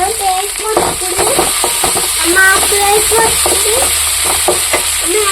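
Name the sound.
chopped tomato added to frying onions in a pan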